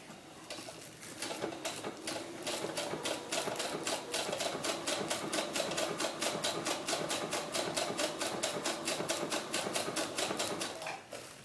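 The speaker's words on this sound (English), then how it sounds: "your stretch stitch is 2 up, 1 back, 2 up, 1 back" A sewing machine runs a stretch stitch on open-weave doll tights, its needle pulsing in a fast, even rhythm for about ten seconds before stopping.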